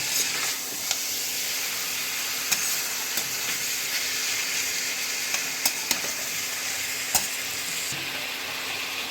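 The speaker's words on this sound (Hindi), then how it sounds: "थोड़ी देर गोश्त को तले हुए प्याज में डालकर थोड़ा तलना है।" Mutton frying in fried onions in a pan, a steady loud sizzle with occasional sharp clicks of stirring utensils throughout.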